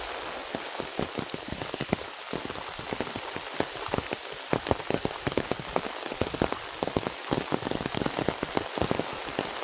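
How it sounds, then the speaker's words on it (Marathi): Steady rain falls onto hard surfaces, with dense patter and scattered louder drops throughout, close and continuous. "पाऊस परत चालू झाला आहे"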